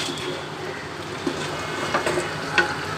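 Vegetables for chicken fried rice sizzle as they fry in a pan, with a steady crackling hiss and a few sharp clinks and scrapes of stirring.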